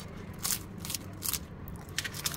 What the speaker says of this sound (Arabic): خليتكم تسمعوا معايا التقرمشه، ما شاء الله كيجيو مورقين بزاف، مقرمشين